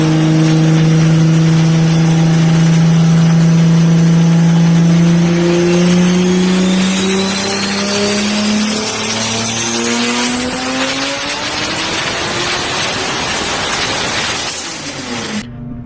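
A loud Mitsubishi 3000GT VR4 engine revs hard and climbs through the gears, tires squealing, the roar rising in pitch before cutting off abruptly near the end.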